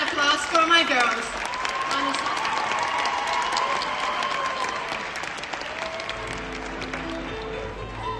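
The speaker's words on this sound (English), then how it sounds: "Give a very loud applause for my girls." An audience at a school performance applauds for several seconds, dense clapping close and loud at first, then thinning out as a voice begins to talk.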